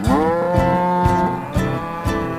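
A cow moos in a long, low, drawn-out call, close and clear, with soft rhythmic thumps underneath.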